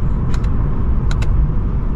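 A Lexus RC F Fuji Speedway Edition with a naturally aspirated V8 gives a steady, deep rumble on the move, with a few brief clicks near the start and middle.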